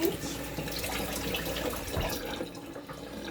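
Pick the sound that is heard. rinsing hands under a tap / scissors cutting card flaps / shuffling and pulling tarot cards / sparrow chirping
rinsing hands under a tap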